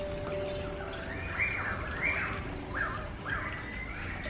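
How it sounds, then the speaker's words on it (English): Birds chirp and tweet outdoors in a steady series of clear, moderately close calls over constant background noise. "Sorry, is it really noisy with the birds?"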